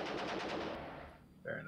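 A tank machine gun fires in the Armoured Commander II video game, a quick rattling burst that trails off over about a second, followed by a short tonal game sound.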